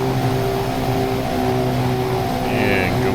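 Car engine held at steady revs, a constant buzzing drone with stable harmonics under faint background talk, fairly close throughout.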